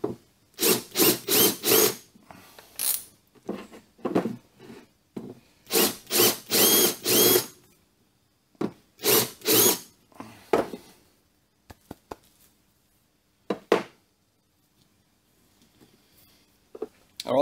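Hand chamfering the inside edge of a hole in a Chinese mini lathe apron part, a series of short, sharp rasping scrapes in quick bursts, close up, separated by pauses with a few softer isolated scrapes later.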